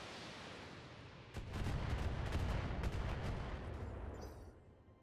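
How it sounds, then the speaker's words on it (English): LRM-20 long-range missile volley in the BattleTech mech combat game: a sudden loud burst of rapid launches and booming rumble that swells, holds for a few seconds, then fades. "LRM-20 shot here"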